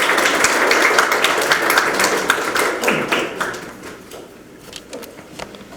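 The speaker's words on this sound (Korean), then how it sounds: "여러분 큰 박수로 맞이해 주시기 바랍니다" A crowd at a youth campaign committee launch for a Sejong mayoral candidate claps loudly in a dense, crackling burst that thins out and fades to scattered claps after a few seconds.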